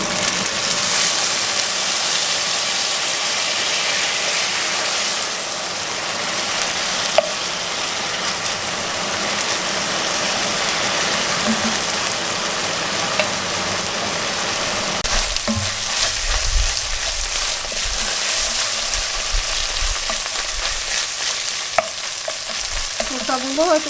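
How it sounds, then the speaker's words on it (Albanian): Onion sizzling and frying steadily in a pan for an Albanian Shkodra-style stew, a continuous close crackle with occasional stirring and a lower rumble joining in the second half. "Të skuqet qepa kështu"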